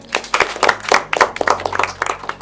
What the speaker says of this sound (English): All of you, clap for yourselves.